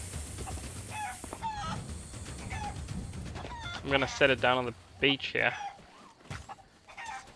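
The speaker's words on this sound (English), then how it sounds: "Yeah, that's the golden chicken." A golden chicken in Sea of Thieves clucks in quick bursts of bright, rapid calls that grow louder midway, while someone talks over the clucking.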